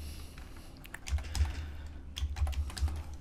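Computer keyboard typing while CSS code is entered for an Elementor Pro contact form, with quick clusters of close, crisp key clicks in uneven bursts over a low background hum.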